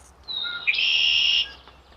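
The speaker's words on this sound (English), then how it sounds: "Just saw a red-winged blackbird." A red-winged blackbird gives a single buzzy, trilling call outdoors, loud and clear, lasting about a second over faint background.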